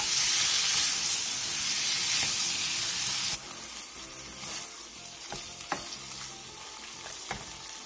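Meat, onion and carrot stir-frying over medium-low heat, a loud dense sizzle that drops to a softer hiss partway through, with occasional spatula clicks against the pan.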